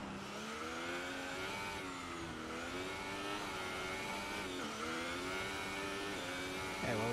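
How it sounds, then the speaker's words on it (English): An F1 car engine in the F1 2018 game, screaming loud and steady down the main straight, its pitch climbing and dropping through gear changes, with another engine's rise near the end. "Nice sound of the engine as it heads down the main straight"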